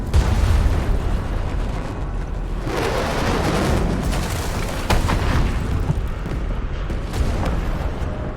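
UWST strike fire landing on a marked spot in Arknights: Endfield, a long stretch of heavy booming blasts and rumbling impacts, with a sharp burst near the start and another crack midway, loud and continuous.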